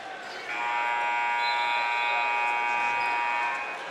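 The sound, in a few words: basketball game buzzer ending the first quarter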